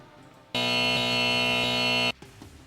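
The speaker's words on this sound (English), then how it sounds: "I was trying to do like the quiz zone and have the buzzer for when something went wrong" Quiz buzzer for a wrong answer: one harsh, loud electronic buzz lasting about a second and a half, starting and stopping abruptly against a quiet background.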